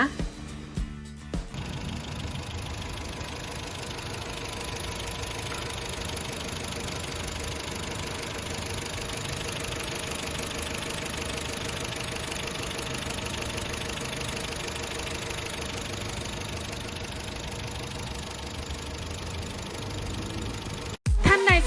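A 2013 Honda Jazz GE 1.3 Hybrid with automatic gearbox idles steadily for about twenty seconds, a low even mechanical hum and light ticking, bracketed by brief clunks at the start and end.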